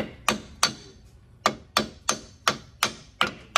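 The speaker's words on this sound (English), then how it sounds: "Take the hammer and hit that bitch in the middle." Hammer striking a brake part during a brake job, nine sharp metallic whacks at a fairly regular pace, close and loud, each ringing briefly before the next.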